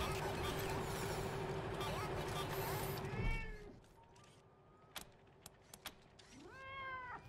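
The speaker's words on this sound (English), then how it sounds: "Do we want to dismiss our cat?" A cat meows in the video game Wasteland 3, with a drawn-out meow cutting through loud game noise early on, then a few more rising meows and small clicks against a quieter background.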